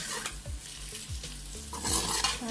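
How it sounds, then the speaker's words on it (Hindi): Spices for aloo bhujia fry in a pan, a close, continuous sizzle broken by several quick scraping stirs of a spoon against the pan. "मसालों को डाल के अब हम इसे अच्छे से फ्राई करेंगे ताकि मिर्चों का कच्चापन खत्म हो जाए"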